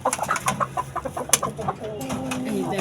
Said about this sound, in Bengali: এই দেখেন মুরগি